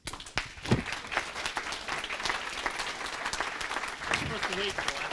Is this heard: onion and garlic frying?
no